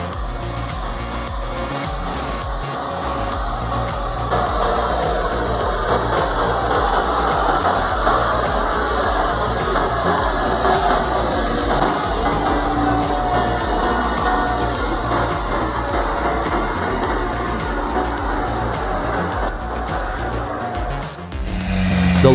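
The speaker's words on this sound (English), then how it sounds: "The log truck climbed the steep hill, the engine roaring in the quiet of the forest." A heavily loaded log truck's engine roars steadily as it climbs a steep forest hill, loud and sustained throughout with no talk.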